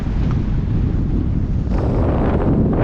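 Strong wind roars steadily across the microphone, a loud continuous rumble that gusts harder near the end.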